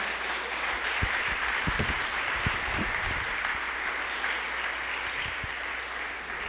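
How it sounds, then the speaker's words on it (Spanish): A Baptist church congregation claps together in a steady, full round of applause that fills the room evenly from start to finish, with a few louder close claps standing out. "Démosle un aplauso a Samuel, hermanos."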